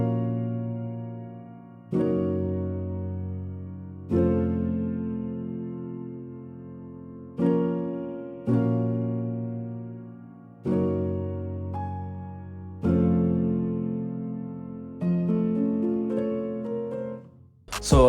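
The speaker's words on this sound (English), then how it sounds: "So, for the first melody, we got this piano from Contact" A soft piano melody from the Noir bank of a Kontakt sample library, with sustained notes and chords struck every couple of seconds, each ringing out and fading, played clean and alone.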